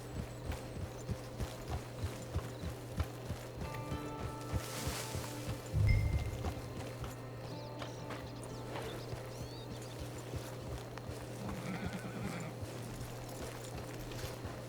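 A horse in Red Dead Redemption 2 clops its hooves at a walking pace near a cabin. The hoofbeats are soft and steady over a low droning hum of game ambience, with one brief louder thump midway.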